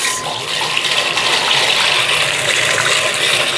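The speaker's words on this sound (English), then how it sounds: "with my hand mixer, my handy hand mixer" An electric hand mixer beats eggs with a splash of water in a bowl for a one-egg omelette, giving a steady, loud whir with rattling and splashing throughout and no voices.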